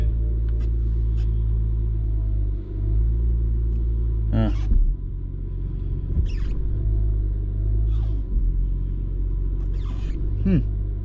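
A 2008-era BMW 335xi E90 with an ABS sensor fault idles with a deep steady engine rumble inside the cabin, then pulls away, with faint creaks and brief clicks over the constant low drone.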